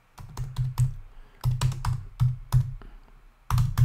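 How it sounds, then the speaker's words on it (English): A search query typed on a computer keyboard, close and crisp, with bursts of quick key clicks separated by short pauses, no voices. "I'm going to type directly into the query box here"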